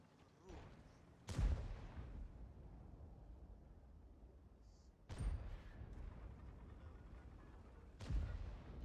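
Three heavy tank cannon booms in a video game land several seconds apart, each a sharp blast followed by a rumbling tail over a low background murmur.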